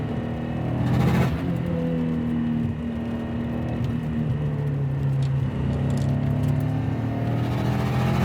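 A 400HP JDM Subaru Impreza STI Type R Version III drives a quiet rainforest road, its engine a steady, close rumble with droning tones rising and falling gently as it pulls along, no voices over it.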